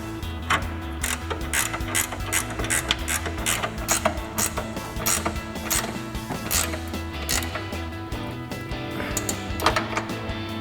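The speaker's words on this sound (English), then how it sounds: "Now we'll tighten down our 21mm nuts, again with our 21mm ratchet wrench." A 21mm ratchet wrench tightens the front strut nuts on a 2005-2009 Ford Mustang GT, giving steady rapid clicking that runs through the whole stretch, close up and moderately loud with no talking.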